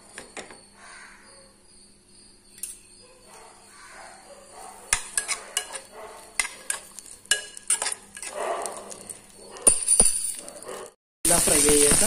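Green chillies are frying in two tablespoons of hot oil in a pan for Andhra-style dosa, giving a soft sizzle with scattered utensil clinks and stirring scrapes, while a voice talks intermittently.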